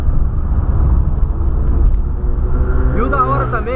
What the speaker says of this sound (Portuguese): É só você estando pessoalmente pra estar comigo pra saber dia a dia como que é o barulho desse carro